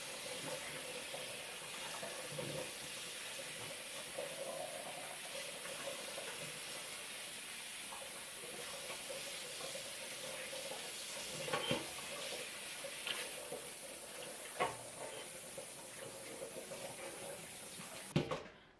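Tap water runs steadily over currants being washed for a fruit cake, a faint continuous hiss with small splashes and clatters near the end, with no voices.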